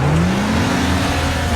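A Buick GNX with a turbo V6 engine revs loudly and close, its pitch climbing steadily through a short sustained pull.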